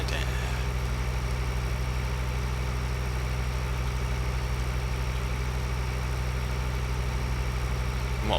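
A tractor engine idles steadily on a farm, a constant low, loud rumble with a regular throb that runs unbroken and close by, with no voices over it.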